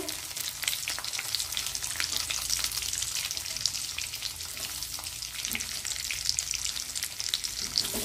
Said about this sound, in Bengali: রসুনটা ভেজে নেব